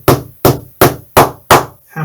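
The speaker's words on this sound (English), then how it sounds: "go hammer it in" Hammer blows driving a tight-fitting part into a 1/6-scale Tony Ray Tiger Moth model aircraft: five sharp, evenly spaced strikes close up, followed by a brief voice at the end.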